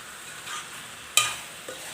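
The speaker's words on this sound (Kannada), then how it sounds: "ಸೊ ಇದು ಇವಾಗ ಚೆನ್ನಾಗಿ ಫ್ರೈ ಮಾಡ್ತಾಯಿದ್ದೀನಿ" Spicy chicken frying in a pan: a soft background sizzle broken by a sharp scrape or clatter of a spoon stirring, then a smaller knock, with no voices.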